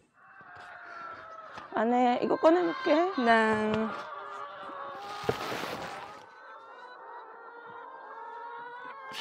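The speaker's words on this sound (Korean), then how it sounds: "지금 이거 닭 울음소리 맞죠?" Chickens and a rooster call loudly at close range in a farmyard in a remote mountain village in Bonghwa, Gyeongbuk, on a misty morning, followed by a rustling burst and then quieter sounds while people speak briefly.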